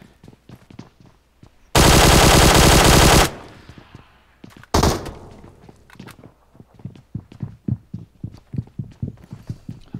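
Rapid hip-fire gunfire in the mobile battle royale shooter PUBG Mobile: a loud sustained burst of automatic shots, a second short burst, then a string of quick rhythmic single shots and footsteps.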